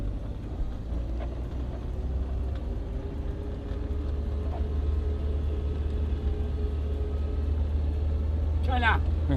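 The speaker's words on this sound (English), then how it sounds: "We are about to go up the mountain on a four-wheel drive. Looks like a Land Rover type." A four-wheel drive Land Rover-type vehicle climbing a sand mountain at Echoing Sands Mountain in Dunhuang, giving a steady low engine rumble heard from inside, with people talking over it throughout.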